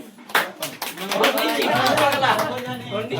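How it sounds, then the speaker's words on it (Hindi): Audience applause at a Chhattisgarhi folk performance, a loud, steady clapping wash from a crowd lasting throughout, with a voice over a microphone talking on top. "एक बार जोरदार ताली हो जाए।"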